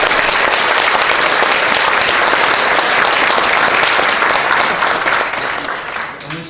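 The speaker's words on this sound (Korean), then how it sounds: "칠리 목사님에게 우리 박수 한 번만 쳐주세요" A church congregation applauds loudly and steadily at a pastor's installation and emeritus ceremony, the dense clapping fading slightly toward the end.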